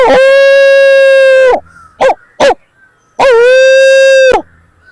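A voice mimics a dog: a long, loud drawn-out howling bark, two quick sharp yips, then another long bark, close and clear against silence.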